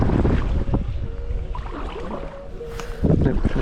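Steady wind buffets the microphone out on open water during stand-up paddleboarding at a charity open water swim, a continuous low roar with gusts strongest at the start and end, faint water sounds beneath.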